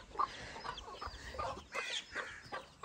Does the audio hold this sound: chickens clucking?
yes